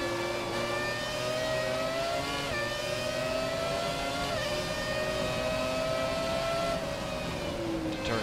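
A Ferrari F2002 race car engine in F1 2017 whines at high revs, pitch rising and dipping through gear changes as the lap continues, steady and close.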